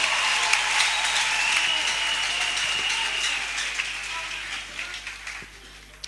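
A church congregation claps in sustained, dense applause that holds steady and then slowly fades, with no talk over it.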